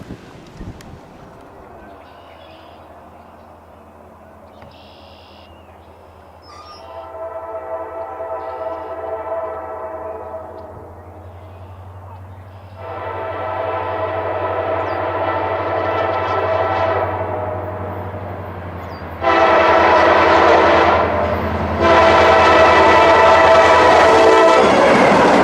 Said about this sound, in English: Some horn on that GP38-2